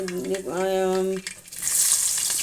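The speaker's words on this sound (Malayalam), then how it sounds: "നമ്മുടെ തേങ്ങാക്കൊത്തിടുവാണ്" Coconut pieces hit hot oil in a pan where mustard seeds have already popped, cooking for a bean stir-fry; a brief tonal whine gives way to a steady, loud, close sizzle.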